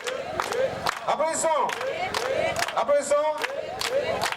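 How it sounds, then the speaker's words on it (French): A crowd claps in rhythmic bursts amid shouting and chanting voices at a church congregation meeting, the noise loud and lively throughout. "Applaudissons Makoukou Milolo Bafouena Basson Boti Abetwe"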